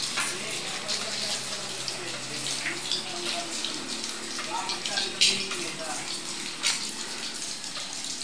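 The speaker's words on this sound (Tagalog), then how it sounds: "umuulan." Rain pours steadily in Angono-Binangonan, a continuous broad hiss of falling water with occasional louder spatters and faint movement in the background.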